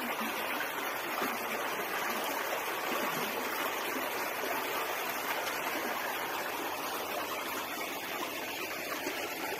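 Water trickles and splashes down from an overhanging rock wall in the Kabardinka river gorge near Kislovodsk, a steady, close, broadband rushing hiss with no pause.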